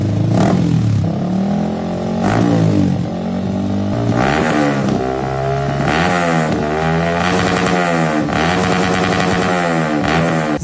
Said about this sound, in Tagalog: pakinggan naman natin ang iba't ibang exhaust ng V-Lane dito sa R15M ng ating customer